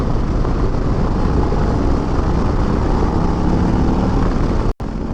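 A 2023 Harley-Davidson CVO Street Glide or Road Glide engine pulls hard in fourth gear, a loud, steady, dense roar under rushing wind with no letup, cut by one sharp momentary dropout near the end.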